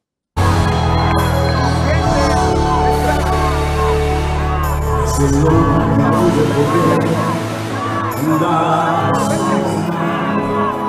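A large crowd at a boxing event in an arena shouts and jeers a chant at a fighter, a loud continuous roar of yelling voices with rhythmic chanting swells.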